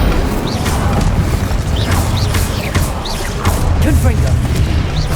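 Hogwarts Legacy Incendio fire spell cast during a mini boss fight, a loud continuous roaring blast with booming impacts and whooshing bursts over dense game action, with a voice calling out over it.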